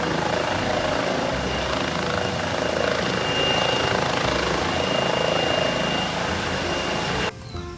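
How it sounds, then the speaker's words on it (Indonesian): Steady whirring rotor and motor drone of a helicopter, likely a toy, running continuously and fairly loud, then cutting off abruptly near the end. "lihat teman-teman, ada helikopter"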